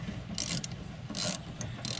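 A socket wrench ratchet loosening an anode rod clicks in quick bursts, several short rasping runs of metallic ticking with brief pauses between, close by and fairly loud.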